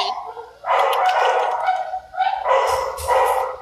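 Dogs bark and yip in two loud, close bursts at an Oklahoma City animal shelter, with a short lull between them and a kennel's echo around the noise.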